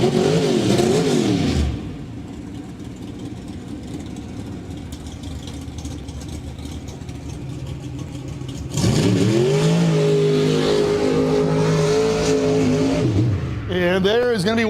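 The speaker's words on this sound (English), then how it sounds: "That's the 1985 Chevy S10 Mudhopper of Devin Mallow." A 1985 Chevy S10 mudhopper truck makes a drag pass at the 4-Wheel Jamboree Summer Nationals. Its engine revs loudly, eases into a lower drone, then surges again into a hard, rising wail, with a voice talking over it.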